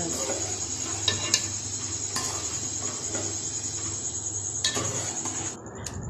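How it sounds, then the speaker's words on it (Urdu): Sweet vermicelli cooking with sugar in a pan, soft scraping and clinking of a spoon stirring at intervals over a low simmer and a steady high electrical whine, with no talking. "اب اس میں آدھی پیالی چینی شامل کر کے 3 سے 4 منٹ تک پکائیں گے۔"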